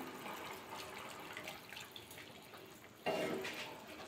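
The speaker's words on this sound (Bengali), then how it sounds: "পৌনে দু বাটি ভাবে জল দিচ্ছি আমি।" Hot water poured into a pot of rice and spices for egg rice: a faint trickle, then a louder, closer splashing stream about three seconds in.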